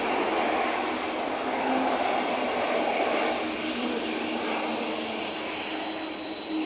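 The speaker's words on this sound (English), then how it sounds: "Easyjet off to Palma de Mallorca." An EasyJet airliner departing Manchester Airport for Palma de Mallorca produces a loud, steady jet engine roar with whining tones, holding for several seconds with no talk.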